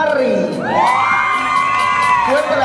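Crowd at a Mister International pageant in Panama erupts in loud cheering and whoops, rising and falling shouts over a full, close audience roar.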